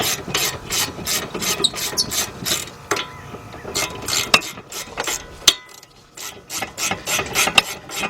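A ratchet tightening bolts on the rear brake of a 2007 Honda Accord, rapid clicking bursts repeated many times with short pauses, close and crisp, plus faint rubbing of metal.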